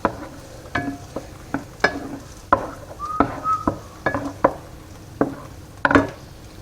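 Meat browns in a hot pan, a steady low sizzle broken by repeated sharp clanks and scrapes of a utensil against the pan, recorded close with no talking.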